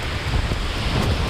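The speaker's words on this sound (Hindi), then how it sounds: "ये बहुत तेज हवा है।" Strong wind roars across a mountain trail on the Kinnaur Kailash trek, a steady, loud, broadband rush buffeting the microphone with no speech.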